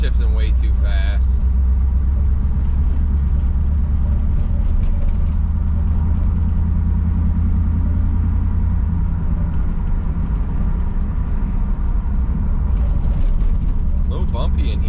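Heard from inside the cabin, a 1985 Chevrolet Camaro Z28 drives along with a loud, steady low engine rumble and drivetrain drone. Brief faint voice-like sounds come near the start and end.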